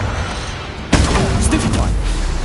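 Spell blasts from the Hogwarts Legacy video game: a sudden loud burst about one second in, followed by sustained crackling, rumbling impact noise that stays dense and loud to the end.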